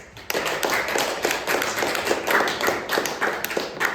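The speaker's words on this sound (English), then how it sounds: "give a round of applause" A small live audience claps at a comedy theater show, casting a vote by applause in a mock trial; a dense patter of hands keeps up steadily for about four seconds after a sharp start, close and moderately loud.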